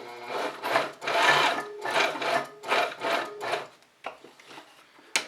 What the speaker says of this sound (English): then you just sew the other diagonal to the opposite corner